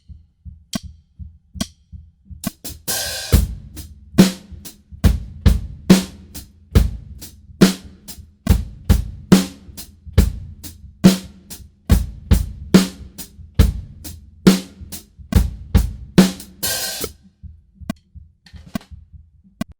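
A basic drum kit beat alternates kick drum and snare in a steady repeating pattern, punchy close hits with occasional brighter crash-like accents, played alone with no voices.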